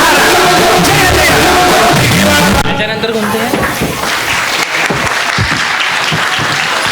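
Loud applause with cheers and shouts fills a hall at an inter-school dance competition, first over music, then a strong roar of clapping and crowd noise once the music cuts off.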